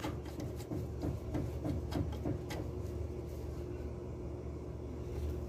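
A Jaguar KD650 mini-size sewing machine stitches a simple straight seam, a steady mechanical whir with a quick repeating clatter that stops partway through, then a soft hum.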